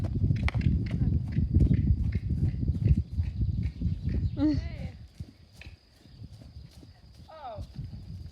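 Horse trotting, hooves clip-clopping in quick close rhythm that fades out partway, with a rider or handler calling out and short whinny-like vocal sounds later.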